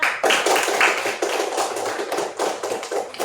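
Schoolchildren in a classroom clap for a group, a loose, uneven burst of close hand claps that swells and dips in waves, with no talk.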